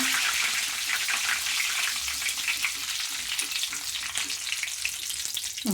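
Curry leaves fry in hot oil for avalakki, a close, loud, continuous sizzle and crackle with faint stirring, and nobody talking.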